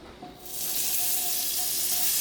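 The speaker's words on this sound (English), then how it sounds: "we gotta take some butter and place it on the griddle" Butter hitting a hot griddle before steaks are cooked, a sudden loud hiss that swells within half a second and holds as a steady, close sizzle.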